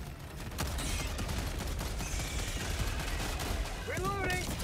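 Bursts of rapid gunfire in Helldivers 2, sharp cracks repeating over a busy battle din, with whistling high-pitched effects near the end and voices mixed in.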